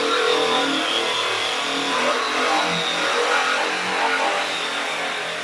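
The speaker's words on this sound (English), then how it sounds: "he's taking down that fender with a metal conditioning tool, and it's going to be loud" A metal conditioning tool strips paint from the fender of a 1969 Camaro, giving a loud, steady, close-up grinding whir that holds without letup and has no talking over it.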